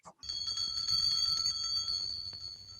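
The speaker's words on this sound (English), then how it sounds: "who's ringing the bell?" A bell rings continuously with a steady, high metallic tone, fairly loud and sustained for a few seconds over a low background rumble.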